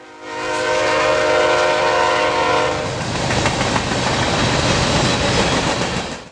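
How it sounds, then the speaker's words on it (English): A northbound KCS mixed freight train led by GEVO locomotives passes close by. A loud, sustained horn chord gives way to heavy rolling rumble and rhythmic clatter of wagons over the rails. "Our next train is yet another northbound mixed freight, with no foreign power this time."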